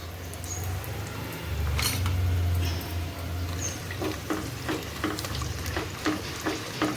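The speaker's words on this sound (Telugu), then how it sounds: "చూడండి ఫ్రెండ్స్ ఎట్లా వేడవుతున్నాయో." Dried red chillies frying in hot oil for raw mango pulihora, giving a soft, steady sizzle with light crackles and faint stirring taps close by, with no talking.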